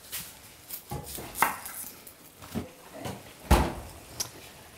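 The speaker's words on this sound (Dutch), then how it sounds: "Maar misschien wil jij ondertussen deze laatste ui eventjes in halve ringen snijden." Knife strokes through the last onion, cut into half rings while a chorizo paella is being made, land as a handful of irregular, fairly close thuds on a cutting board with quiet gaps between them and no talk.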